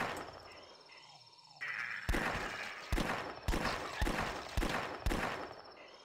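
Revolver shots in The Last Stand flash zombie game: five sharp, evenly spaced bangs about a second apart, each ending in a short decay over background game noise.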